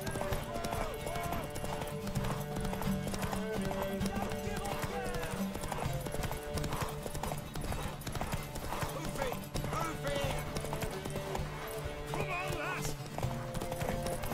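Horse hooves clop steadily in The Witcher 3: Wild Hunt, with neighing, layered over continuous game music and character voices throughout.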